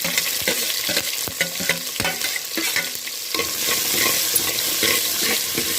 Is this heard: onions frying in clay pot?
yes